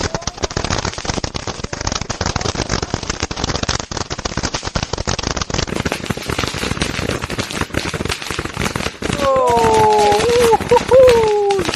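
A string of 1000 firecrackers going off, a loud dense crackle of rapid bangs that runs throughout, with excited voices rising over it toward the end.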